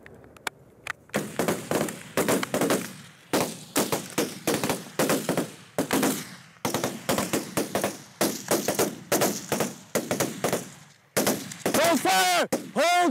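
Rifles fire repeated rapid bursts and volleys at a training session in Syria run by a former Dutch army soldier, loud and close, with shouting voices in between and at the end.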